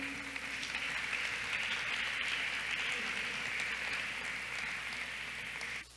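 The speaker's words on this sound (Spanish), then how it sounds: "Desen un aplauso por estar aquí." Audience at an evening gathering applauding: a dense, sustained wash of clapping from many hands that holds steady for several seconds, then stops abruptly at the end.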